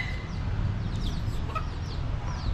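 Chickens at a Thai temple in Ayutthaya cluck steadily and close by, several birds overlapping in a busy barnyard chatter with no talking.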